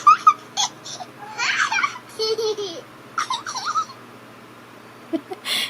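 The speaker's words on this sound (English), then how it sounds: "it's a baby giggling and laughing." Baby giggling and laughing sound effect from a music-making app library, with short bursts of babbling giggles and squeals in an irregular pattern, fairly close and clear, no talk over it.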